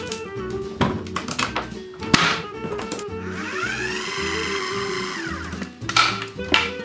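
Almonds are ground in a blender, with a motor whirring in a steady rising-and-falling drone through the middle. Loud knocks and taps of the jar and lid come before and after, all close by.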